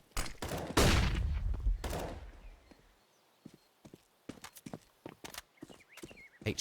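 Counter-Strike gunfire on the Inferno map: a loud, rapid spray of shots up front, followed by scattered sharper cracks and footstep-like taps at a distance.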